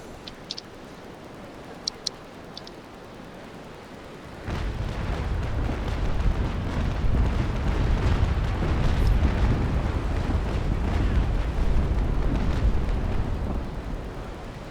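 Ship guns firing in a naval battle video game: after a few quiet seconds with faint clicks, a heavy, continuous rumble of booms and blasts sets in and stays loud to the end.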